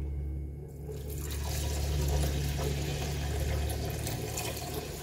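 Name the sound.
pouring water onto basmati rice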